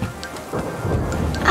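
A thunderstorm roars with steady heavy rain and a low rumble of thunder swelling near the end, dense and close, with no voices.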